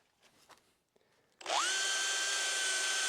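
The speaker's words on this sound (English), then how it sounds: "drill those holes" A power drill bores holes into a wooden doorframe for a restored bread oven, starting after a few faint knocks and then whining loudly and steadily at close range.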